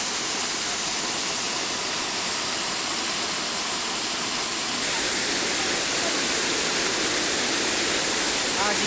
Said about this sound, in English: The waterfall, isn't it beautiful?